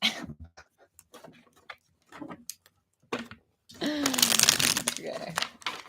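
Tarot cards being shuffled, a quick riffling flutter that grows loud and dense near the end, preceded by scattered soft handling noises and brief talk.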